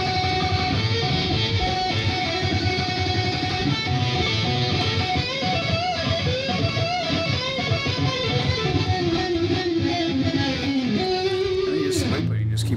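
An electric guitar solo recording plays back continuously at steady loudness, with dense distorted rock instrumentation throughout.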